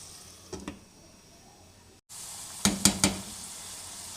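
Onions and mutton cooking together in a pot for bhindi gosht, a soft continuous sizzle broken by a few sharp metallic clinks of a spoon against the pot, one pair early and a quick cluster of three later.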